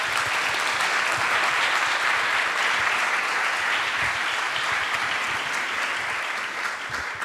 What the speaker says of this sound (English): Rightly deserved applause.